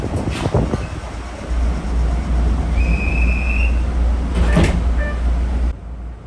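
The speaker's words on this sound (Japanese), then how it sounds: "列車が到着したらすぐさま扉が閉まります。" Train doors slide shut after a local train arrives at Kume station in Japan, a near mechanical whoosh and thud over a steady low hum of the idling train, with a short chime and no talking.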